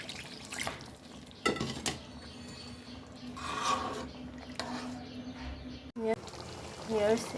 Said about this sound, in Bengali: এবার আমি এই যে ঝোলের পানি দিয়ে দিলাম